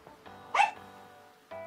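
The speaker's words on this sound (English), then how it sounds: "I have a dog in here with me, so if you hear chirping and barking, that's what's going on." A single short, faint dog bark pops out once in an otherwise quiet room, followed by a soft low sound.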